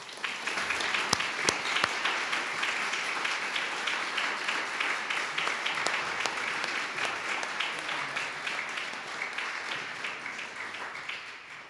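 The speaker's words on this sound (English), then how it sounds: "Please give a round of applause for our next Golden Quill recipient, Winnie Fritz." An audience at an alumni award ceremony applauds for a recipient in a long, sustained round of clapping. The many individual claps are dense and even, moderately loud, with no speech over it.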